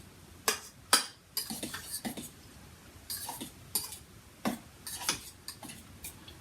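A salmon loaf mixture being mixed in a small bowl, with a spoon tapping and scraping against the sides in irregular, close clicks and clinks, no voices.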